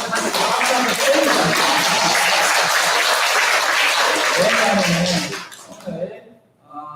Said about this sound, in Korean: 호흡을 하면서 박수 한번 때리자.